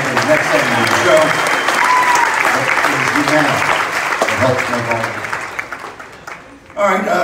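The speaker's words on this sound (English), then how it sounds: "So a warm round of applause." Warm applause from an audience at the Grand Ole Opry, dense steady clapping filling the hall and slowly thinning toward the end.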